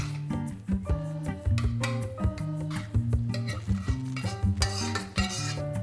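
Wild greens dropped and pressed into a baking tray in a kitchen, with clattering dish and pan knocks, rustling handling and tinny metallic taps in uneven bursts close by, no voices.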